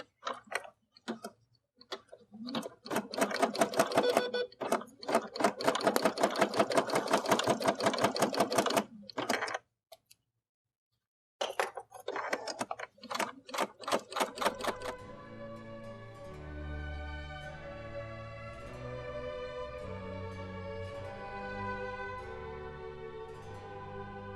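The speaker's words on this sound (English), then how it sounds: "we're going to go ahead and start the embroidery process." An embroidery machine runs a perimeter basting stitch, a close, rapid mechanical clatter of needle strokes that stops briefly, restarts, and then settles into a steadier, quieter rhythmic ticking.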